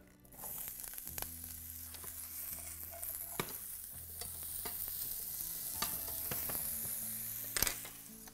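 Sliced carrots and potatoes sizzle steadily in oil in a pan, with occasional stirring scrapes and clinks, close and alone without speech.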